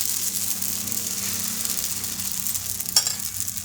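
Dosa batter sizzles steadily on a hot pan, a continuous close frying hiss with a brief sharper crackle near the end.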